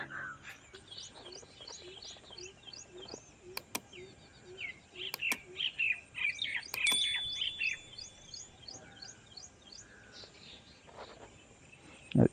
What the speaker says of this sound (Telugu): ఒకసారి వినండి పక్షుల సౌండ్ అనేది